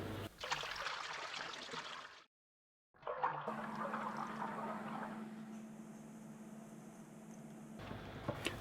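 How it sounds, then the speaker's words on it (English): Water poured onto dry bread dough ingredients in a bowl gives a steady, close trickle that stops briefly and then resumes as a longer continuous stream. "I first add all dry ingredients, then the water."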